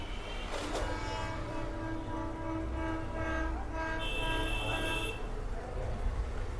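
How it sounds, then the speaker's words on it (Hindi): A train rumbles past close by with a steady low roar and clattering wagons, with several horn blasts mixed in, loudest near the end, and faint speech in the background. "आ गया ट्रेन जी।"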